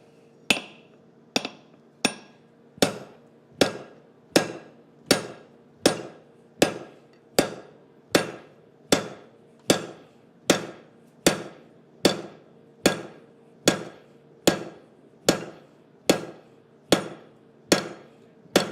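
Hammer blows on metal at an anvil during an evening blacksmith forging session, ringing out in a steady, evenly spaced series of about twenty sharp, loud strikes with no talking.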